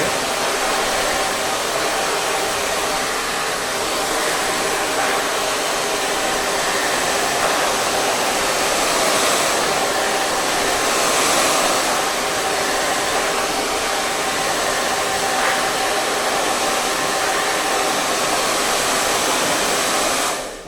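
Hair dryer blowing freshly coloured hair dry in a men's salon, a loud, steady, close roar of rushing air that runs unbroken throughout.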